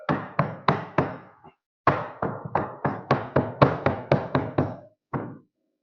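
Repeated sharp wooden knocks as a wood flooring plank is tapped into place using another loose plank, about a dozen close, loud thuds in quick rhythmic bursts with a short pause partway through.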